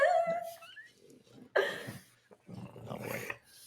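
A dog whimpers and whines in high, strained bursts, with low growly grumbles between, close by and fairly quiet.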